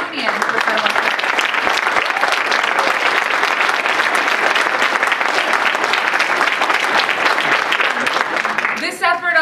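Audience applause at an award ceremony for a worker safety activist, a dense, sustained round of clapping from a sizable crowd that continues for about nine seconds, with faint voices near the end.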